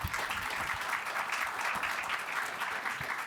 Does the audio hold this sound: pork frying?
no